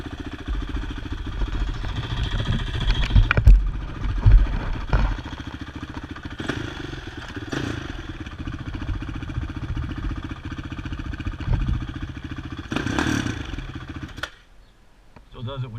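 Honda 450R ATV with a stock exhaust pipe, its engine idling and revving near the listener, with several sharp throttle blips and clattery mechanical noise before it cuts off abruptly at the end.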